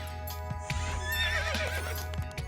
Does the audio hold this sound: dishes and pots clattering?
no